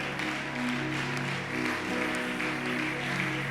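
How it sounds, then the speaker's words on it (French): A church congregation applauds with a steady, even wash of clapping that continues without pause, heard from a distance and fairly soft, with a faint sustained hum beneath. "Acclamons le Seigneur Jésus."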